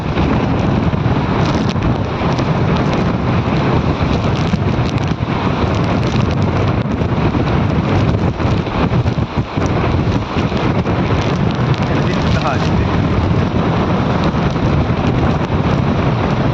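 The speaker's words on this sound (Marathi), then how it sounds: "तुम्ही पाहता अशा बरेच तुफान वारा चालू आहे, इथे हवा चालू आहे" Strong wind buffets the microphone nonstop in the Sahyadri mountains, a loud, rough roar filling the whole stretch with no pauses and no voices.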